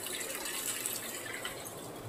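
Tap water splashes continuously while the lid of an Aquaguard i Nova water purifier is washed, a close, steady hiss with faint drips and no talk.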